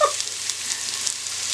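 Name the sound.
onion frying in olive oil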